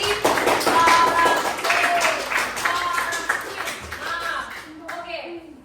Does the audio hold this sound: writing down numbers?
no